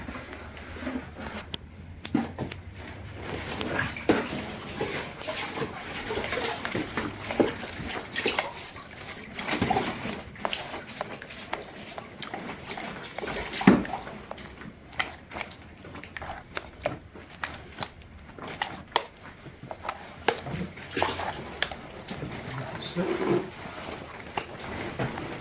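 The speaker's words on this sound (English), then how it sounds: "Splashing a bit of water on there, it helps to stop it sticking" Water splashed and worked onto wet plaster while a traditional plaster frame is built, giving irregular wet slaps and trickles over a long stretch, close and moderately loud.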